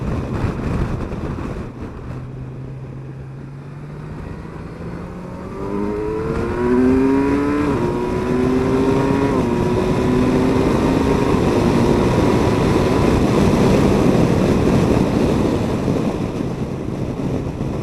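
Kawasaki Versys 1000 GT or Yamaha Tracer 900 GT touring motorcycle pulling away on the road, engine note climbing through rising gear steps over steady wind rush, getting louder as the bike accelerates hard, with no talk.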